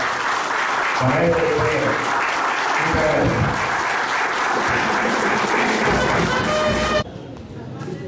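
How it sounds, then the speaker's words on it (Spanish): Strong audience applause at a union anniversary ceremony in Casa Grande, dense and sustained for about seven seconds with a voice speaking over it, then cutting abruptly to quieter room sound. "Yo les pido un fuerte aplauso"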